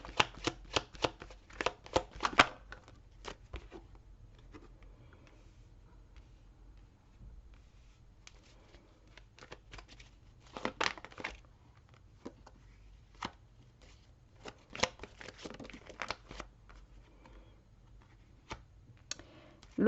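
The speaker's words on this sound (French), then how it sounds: "je vais vous mettre les cartes ici" Playing cards are laid out and handled during a tarot-style reading: quick clusters of crisp card snaps and shuffles come near and fairly quiet, with short pauses between bursts and no talking.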